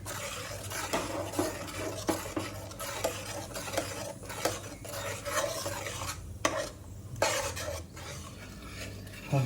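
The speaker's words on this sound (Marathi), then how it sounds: "कांद्याची पेस्ट ही चांगली भाजली गेली आहे" Onion paste being stirred and fried in a pan for a Malvani green chicken dish: a continuous close sizzle with repeated scraping and clinking of a spoon against the pan, loud and busy throughout.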